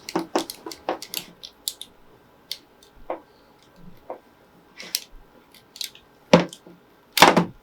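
Scissors or a blade cutting open a thin-walled PVC shower hose, giving a series of sharp, close snips and clicks in an irregular rhythm, quiet between cuts.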